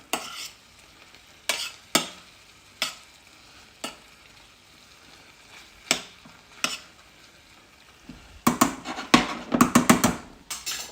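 Orecchiette and broccoli tossed in a hot pan with residual heat, giving scattered sharp clatters and scrapes with quiet gaps, then a dense burst of rattling and stirring near the end; no voices.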